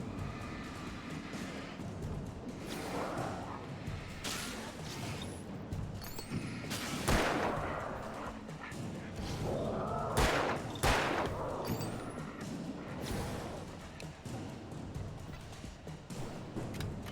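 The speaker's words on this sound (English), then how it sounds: "Wait, why do I keep shooting?" Gunfire in the video game Alan Wake, bursts of shots scattered across a fairly quiet, busy game soundscape, with a few sharp louder cracks.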